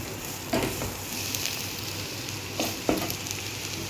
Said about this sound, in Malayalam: ഈ പൊടിയുടെയൊക്കെ പച്ചമണം മാറുന്നവരൊന്ന് ഇളക്കി കൊടുക്കാം